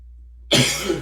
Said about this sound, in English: pardon the coughing, it's very early in the morning.